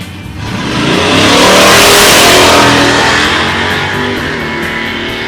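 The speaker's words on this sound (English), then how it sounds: "Probably a 340 in the Challenger and a big block wrap motor in the Chevelle." A late-model Hemi Dodge Challenger and a big-block 1966 Chevrolet Chevelle drag racing at a dragstrip: loud, close V8 roar swelling as the cars accelerate, then easing slightly, with no talk.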